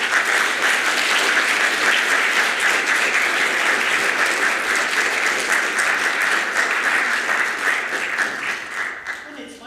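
An audience claps steadily in warm, continuous applause, welcoming two speakers to the stage at a talk on 200 years of Norwegian migration to North America. The clapping is loud and sustained, then tapers off near the end.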